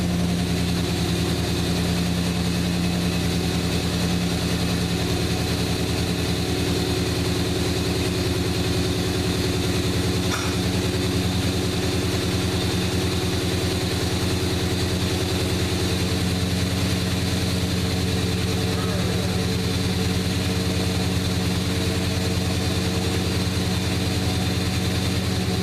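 A Chevrolet Suburban engine idles steadily inside a garage just after starting, a continuous low rumble with a constant hum, close and even throughout with no talking.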